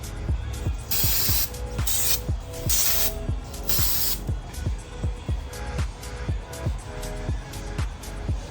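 Aerosol spray paint can spraying brake calipers in several long hissing bursts, close up, over a steady rhythmic mechanical thumping in the background.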